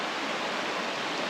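The Bear Creek river flows along a forest trail, a steady broadband rush of water, close and continuous, with no voices.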